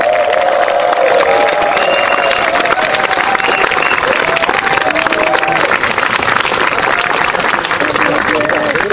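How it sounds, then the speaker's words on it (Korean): Warm applause and some cheering from an outdoor audience welcoming a former unification minister's lecture at a summit anniversary event, loud continuous clapping with voices talking over it. "뜨거운 박수 부탁드리겠습니다."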